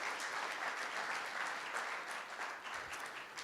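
Audience at a January 2020 city planning presentation applauding, a steady dense patter of many hands clapping at moderate distance throughout, with no speech over it.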